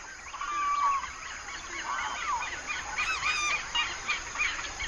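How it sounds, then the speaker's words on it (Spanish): Dawn chorus in the South American Pantanal: many birds calling and honking at once, goose-like and fowl-like cries overlapping in a dense, continuous wash, with distant calls layered behind nearer loud ones. "Es sobrecogedor el espectáculo sonoro que producen juntos las aves, los anfibios y los insectos en las regiones con mayor biodiversidad."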